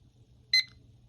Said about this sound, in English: the first thing I'm gonna do is start my timer.